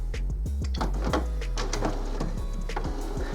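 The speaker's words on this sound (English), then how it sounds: "what your printer does is pull a sheet of paper into it and kind of moves it back and forth on the rollers" An HP OfficeJet Pro 6830 printer runs its page-smear cleaning cycle, pulling a sheet in and shuttling it back and forth over the rollers with rhythmic mechanical clicks, whirs and motor sweeps, close and fairly loud.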